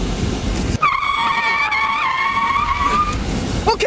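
A car skidding under hard braking, opening with engine rumble before a loud, sustained tire squeal with sharp tonal bands that wavers for several seconds and ends with a brief second screech.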